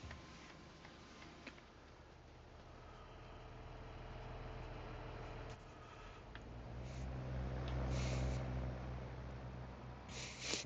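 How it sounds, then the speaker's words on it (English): A dump truck drives past in a quiet outdoor setting in Hawkeye, Iowa, its low engine rumble swelling gradually as it nears, then fading, with faint ticking along the way. "Goes that dump truck."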